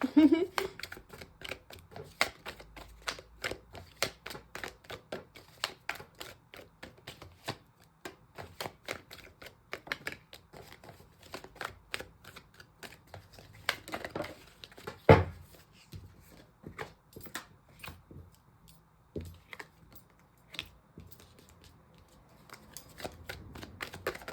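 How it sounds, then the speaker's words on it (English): Tarot cards being shuffled over and over, a dense run of crisp riffling snaps and flicks, close up, with occasional soft taps and a faint voice. "So I'm just going to go quiet while I'm shuffling."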